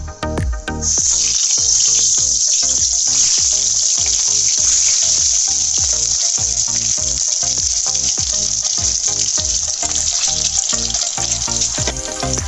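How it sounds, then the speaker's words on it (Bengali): Eggs coated in turmeric fry in hot oil with a loud, steady sizzle and constant crackling pops that keep going without a break. "এখন এগুলো আমি তেলে ভেজে নেব আগে।"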